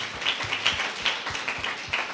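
A church congregation at a Sunday service clapping hands in a steady rhythmic beat, sharp claps repeating roughly every quarter second, moderately close and alone.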